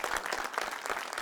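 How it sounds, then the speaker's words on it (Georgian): A studio audience applauds on a Georgian television show, a brief, dense patter of many hands clapping at a steady moderate volume with no voices. "აპლოდისმენტები"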